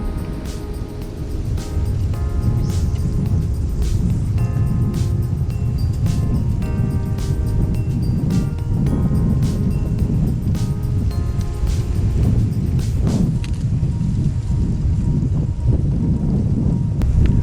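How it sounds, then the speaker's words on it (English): Steady blustery wind roars and buffets the microphone outdoors beside a river, a continuous low rumble with faint clicks and tones scattered through it. "So windy."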